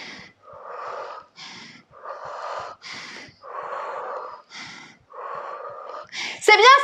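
Heavy, forceful exhales during a wall sit in a home HIIT cardio workout, coming as a steady series of close, breathy pushes with short pauses, ending on a sharper strained breath.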